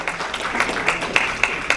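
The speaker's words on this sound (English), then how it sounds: "Please give them a big round of applause as we complete this section" Applause for panelists at a sustainability panel session, a room full of hands clapping in a dense, even patter with a few sharper claps standing out, heard close and alone.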